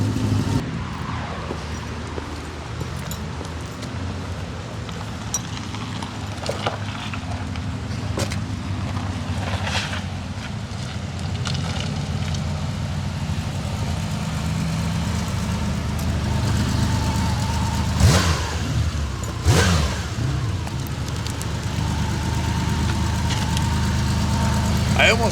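A 1981 Honda CBX1100 motorcycle engine running with a low, steady rumble for about half a minute, with a few sharper rises in revs near the end.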